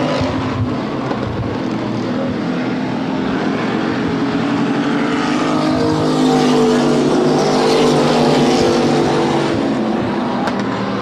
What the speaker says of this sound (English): Chris Scott, your leader, up off of turn number 2 and down the back straightaway.